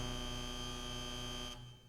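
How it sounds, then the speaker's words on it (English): A harsh, steady electronic buzzer drones loudly in the video game Danganronpa V3, holding one flat tone for about a second and a half before cutting off abruptly. "The buzzer went off."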